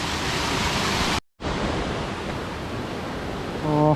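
A waterfall in Thakhek, Khammouane, Laos roars in a dense, steady rush of water, cut by a brief moment of silence before the roar resumes.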